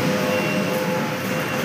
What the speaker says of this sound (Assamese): ট্ৰেইনখন আহি গ'ল চাওকচোন